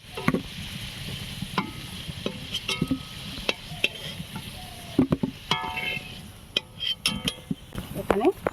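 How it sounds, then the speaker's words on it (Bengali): Potato and pointed gourd fry in oil in a pan while a utensil scrapes and clinks against the metal, producing irregular stirring knocks and taps over a soft sizzle, close and fairly quiet. "এখানে আলু পটলটা আমার ভাজা হয়ে গেছে"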